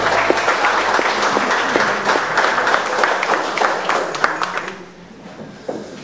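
Audience applause for students at the opening of an art exhibition in Youghal, a loud, dense wash of many hands clapping near the microphone that fades to quiet near the end.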